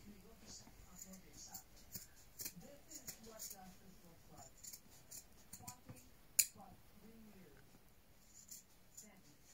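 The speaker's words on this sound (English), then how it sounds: "Don't cut anything else than the shirt." Scissors snipping through a shirt laid over a pillow, giving soft, irregular cutting clicks close by, mostly under a person talking.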